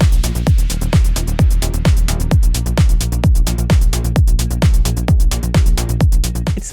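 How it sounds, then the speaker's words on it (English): Rolling bass line locked to a steady kick in a house or techno style groove, each thump followed by a pulsing bass tail; a continuous, driving loop at even tempo with no voices. "Nowadays, rolling bass lines are everywhere, from trance to techno to house music"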